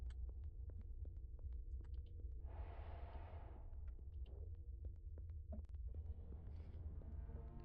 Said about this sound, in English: I'm hearing whirring sounds